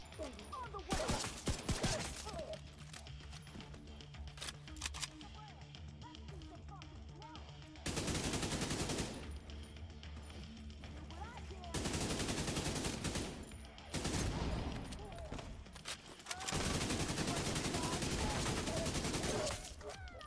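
AK rifle fire in a video game, with repeated bursts of loud automatic gunfire across the clip, separated by quieter stretches of ambient game sound.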